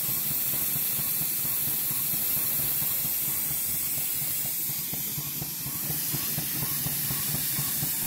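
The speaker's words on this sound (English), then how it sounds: "Safety valve starting to blow." A safety valve on a 5 inch gauge steam locomotive blows off, a loud continuous hiss of steam with a rapid chuffing pulse running underneath, close and unbroken.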